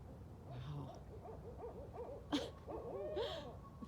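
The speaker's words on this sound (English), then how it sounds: "it's an owl party out here" Barred owls hoot and call back and forth in trees at night, several overlapping voices with repeated rising-and-falling hoots, one loud sharp call standing out near and others fainter and farther off.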